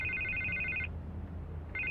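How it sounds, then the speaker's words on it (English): A telephone rings in a Batman video game, a bright electronic trill that sounds, stops, then starts again near the end, steady and close against a low ambient hum. "I can't get the phone to stop ringing."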